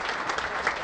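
Crowd applauding steadily after a game in a professional racquetball final in Stockton, a dense, even patter of clapping close by with no talk over it.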